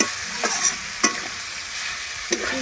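Onions sizzle steadily as they fry in a pan over an outdoor village stove, a constant close hiss broken by a few spatula scrapes and taps.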